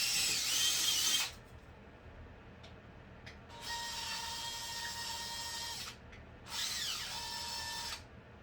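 Three bursts of a power drill boring holes through plastic airport lids, a loud high whir with short pauses between runs, and no voices.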